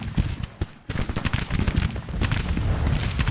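Battle gunfire in the Civil War strategy game Grand Tactician: a dense, rumbling volley of musket and cannon shots, steady and fairly loud.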